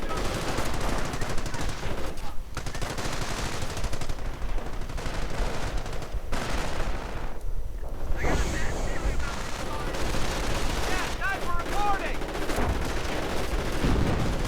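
Battle sounds from a World War II strategy game: machine gun bursts, including a 30 caliber, and artillery fire with tanks crackle constantly, while a commentator talks excitedly over the fighting.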